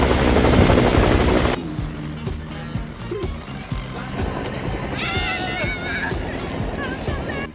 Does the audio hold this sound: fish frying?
no